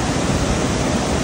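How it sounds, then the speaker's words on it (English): Second Forks Falls in Cape Breton, a steady, dense roar of falling water, loud and close, with no other sounds on top. "One of the most coolest and impressive waterfalls we've been to on the island."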